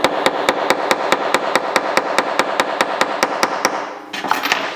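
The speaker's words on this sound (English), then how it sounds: "I certainly did not expect to need to use this hammer" A small hammer from a cheap watch repair kit taps a watch part in a quick, even series of about twenty sharp, close metallic knocks, then stops briefly before a few fainter taps.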